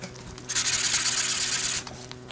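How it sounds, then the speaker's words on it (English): Steady rasping of a sanding block rubbed back and forth across graphite, close and fairly loud, lasting over a second between quieter moments. "The tight fit of the sanding belt on a smooth, flat block gives me the ability to smooth this down"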